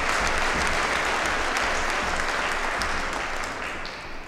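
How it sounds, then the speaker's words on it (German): Church visitors applaud at the close of a carnival-themed service, a dense, steady wash of many hands clapping that fills the space and tapers slightly at the end, with no voices standing out. "verdienten Applaus."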